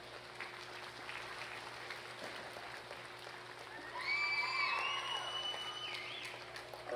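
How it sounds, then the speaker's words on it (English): Audience applause for children at a junior livestock show ring, a steady crowd clapping throughout with a swell of cheering and whoops in the second half, heard from within the arena. "let's give these kids a big round of applause"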